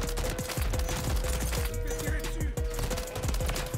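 Rapid DG-58 rifle fire in Modern Warfare 3 gameplay, a steady run of sharp, loud shots crackling over continuous game noise and music, with voices talking over it.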